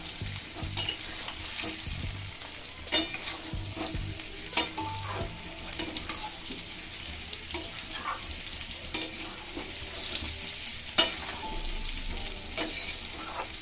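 Boiled potatoes fry in oil for niramish aloo dum while being stirred, a constant soft sizzle broken by repeated scrapes and clacks of a spoon against the pan.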